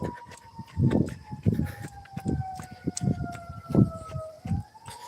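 An ambulance or fire truck siren wails steadily in the background during a jog, its tone slowly falling, while low rumbling bursts and muffled noise come and go in the foreground.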